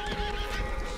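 Horse in the Red Dead Online video game giving a short, shrill neigh lasting about a second, loud and near against a steady ambient bed.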